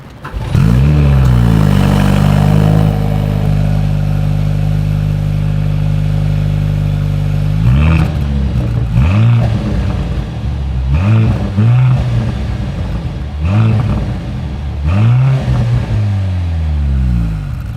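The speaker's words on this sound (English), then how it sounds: "As always, here is that exhaust clip." A 2024 Mercedes-AMG C 43 engine idles and then revs up sharply several times in quick bursts, loud and close, with exhaust burble between each rev.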